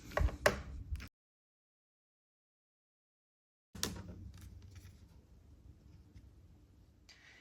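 An embossing folder holding a card panel is cranked through a manual embossing machine: a short burst of close crackly rolling, a silent pause, then a longer steady grinding pass that slowly fades.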